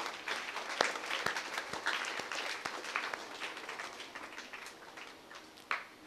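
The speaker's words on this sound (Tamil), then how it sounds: "ஆலய கமிட்டி பொறுப்பாளர்களுக்கு கைத்தட்டி நாம் நம்முடைய நன்றியை தெரிவித்துக் கொள்வோம்" A church congregation claps in thanks for the church committee at a feast-day Mass, steady hand applause filling the space and tapering off toward the end, with a few sharper individual claps.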